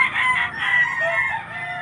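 A gamefowl rooster on a game farm crows in a single sustained, strained call that stays loud and close for nearly two seconds over faint farm background.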